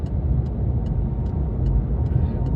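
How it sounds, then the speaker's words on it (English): Steady road rumble of car traffic on a 70 mph dual carriageway near Hawkinge and Capel le Ferne, a continuous close engine and tyre drone with faint periodic ticks, no talking. "Now looking for a safe gap in the traffic."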